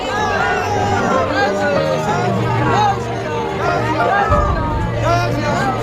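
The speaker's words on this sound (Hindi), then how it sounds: "राम भक्तों की भीड़ से अयोध्या की सड़कें भर गई" A dense crowd of Ram devotees fills the streets of Ayodhya on New Year, a steady close hubbub of many overlapping voices over a low continuous drone.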